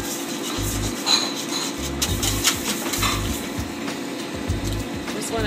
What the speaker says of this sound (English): Just want to whisk it up to the butter melt